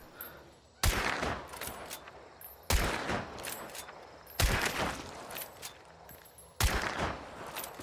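Video game gunfire at long range: four loud bursts of rapid shots, each lasting about a second and a half, spaced roughly two seconds apart over a quieter background.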